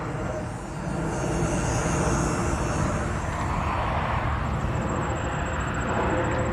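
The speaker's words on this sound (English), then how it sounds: "Now that was a plane too." An airplane drones overhead outdoors as a continuous broad rumble that swells slightly and holds steady, with no voices.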